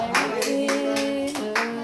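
A church congregation claps in rhythmic, evenly spaced beats in praise, with sustained musical tones underneath, moderately loud and steady.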